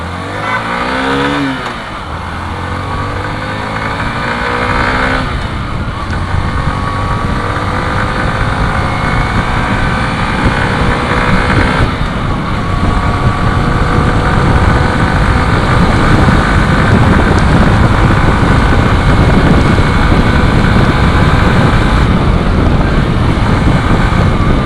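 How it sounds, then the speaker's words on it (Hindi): A Hero Passion Pro Xtec 2022 motorcycle makes a top speed run, its engine droning loud and steady with rising revs through gear shifts, heavy wind rush over the microphone throughout. "एक टॉप स्पीड रन करते हैं अब"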